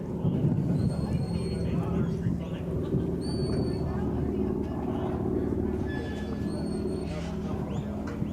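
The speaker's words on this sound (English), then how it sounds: "Well, those airplanes make some noise." Airplanes flying over from an airport about a mile away pass above an outdoor cattle arena, a steady broad roar lasting throughout with faint high tones and distant background chatter.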